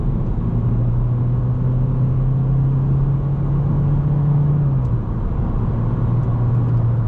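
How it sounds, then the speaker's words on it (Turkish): A 2017 Opel Astra K 1.6 CDTI diesel pulls uphill at full throttle, heard from inside as a steady low engine drone that rises slightly in pitch and then drops near the end. "Arkam bomboş, yokuş yukarı dip gaz yaptım."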